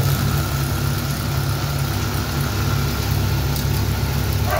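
A coil winding machine runs while rewinding a Havells 12+12 coil ceiling fan. Its motor gives a steady, close, low mechanical hum with a faint vibration and little change throughout.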